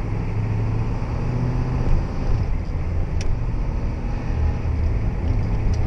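A 1991 Ford F250 truck downshifts on the road, its steady loud engine and road drone filling the cab with little change, plus a faint click or two and no voices.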